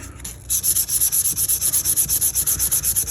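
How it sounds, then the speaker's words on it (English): Rapid rhythmic sanding strokes on a knife blade rasp back and forth, close and steady, with about twenty even passes after a short quiet start. "to help support the knife when I'm sanding on it"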